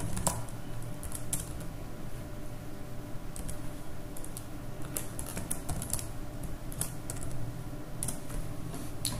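Keys clatter on a computer keyboard as a username and password are typed, with steady close tapping over a low background hum and occasional louder keystrokes.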